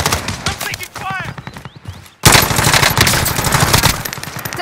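Gunfire in Call of Duty: Modern Warfare comes as loud, rapid machine-gun bursts, first mixed with voices and shouting, then a dense continuous barrage after a brief drop.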